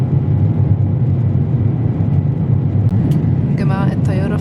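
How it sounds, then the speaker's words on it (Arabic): A steady low engine rumble fills an airliner cabin as the plane begins to move on a flight from Egypt to Korea, constant and loud, with brief talking near the end. "الطيارة بدأت تتحرك"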